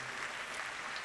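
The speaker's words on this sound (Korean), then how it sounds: "귀한 젊은이들 다 들어갈 때까지 우리 박수로 격려하겠습니다" Steady applause from a church congregation, a dense wash of clapping throughout.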